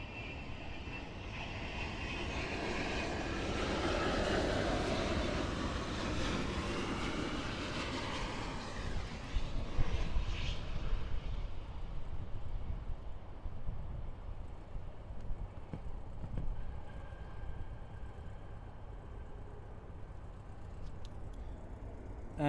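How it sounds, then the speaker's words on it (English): An Avianca Boeing 787 arriving on runway 9 at Miami International Airport roars past with broad jet engine noise, swelling in the first half and then easing into a lower rumble as it rolls away. "arriving on runway 9, we have a Boeing 787 that is not on flight radar for us to see, but it is an Avianca Boeing 787"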